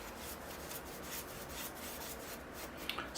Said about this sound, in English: I'm going to start brushing the linseed oil on the bench.